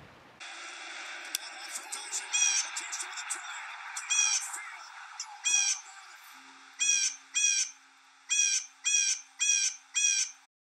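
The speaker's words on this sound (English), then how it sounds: "Blue jays are one of the loudest birds ever and have a really silly, shrill call." Blue jay giving a series of loud, shrill harsh calls, about ten bursts that come faster toward the end, over steady background hiss.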